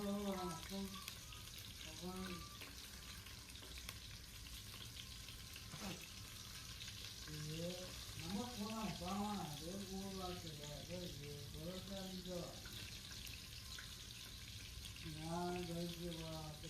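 Chicken frying in oil makes a steady, moderately loud sizzle throughout, while people talk over it in short bursts of speech.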